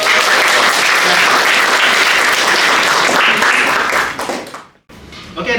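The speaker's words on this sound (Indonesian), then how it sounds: "Tepuk tangan untuk Anton" Audience applause for Anton, Kartini and Anggi after a first-aid demonstration done without equipment, a loud sustained burst of clapping that fades out near the end and then cuts briefly to silence.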